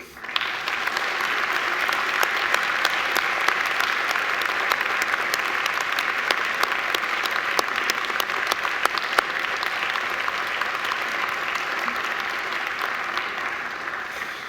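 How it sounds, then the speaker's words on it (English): A large audience at a university graduation ceremony gives a long, sustained round of applause, an even, fairly distant wash of clapping with no talking. "I invite you to give them a mighty round of applause"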